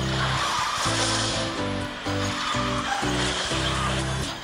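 Car drifting with tire skid in the Garena Speed Drifters racing game, the Flame Throne Red Wing kart, loud repeated squealing skids in rhythmic bursts over a steady engine drone.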